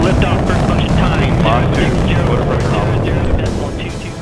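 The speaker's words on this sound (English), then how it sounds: "rocket motor, solid fuel ready to burn as soon as it's ignited" A solid-fuel rocket motor ignites at liftoff from Vandenberg Air Force Base, California, carrying the ICON space-weather satellite. Launch-control voices are heard over a loud, continuous roar that stays close and dense, then begins to fade near the end.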